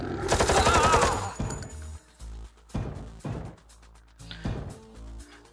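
Bursts of automatic gunfire in the Gorky 17 video game, a dense rattling volley up front followed by several shorter separated bursts, loud and close with no talk over it.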